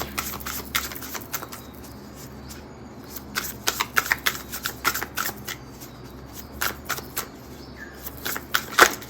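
Oracle cards are shuffled by hand in repeated quick riffles and soft slaps, close and fairly loud, with short pauses between bursts and no talking.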